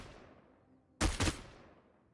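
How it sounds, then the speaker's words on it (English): Automatic weapon fire from a champion in the Paladins video game, a sudden loud double burst of rapid shots that rings out and decays over the next second. "his automatic has an ice effect that slows enemies down"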